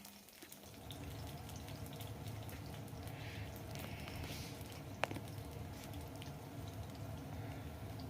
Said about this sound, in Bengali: বেগুনগুলো একটু লবণ আর হলুদ দিয়ে আমি একটু ভেজে নেব